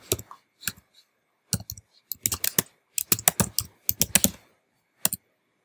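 Someone types a name on a computer keyboard: crisp, close key clicks in short irregular bursts separated by brief pauses, with no talking.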